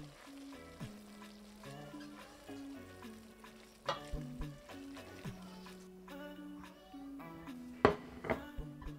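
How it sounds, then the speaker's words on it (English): Mincemeat browning in a frying pan with a steady, quiet sizzle and occasional stirring scrapes, close by, while faint background music plays. "I basically just browned the mincemeat in a pan"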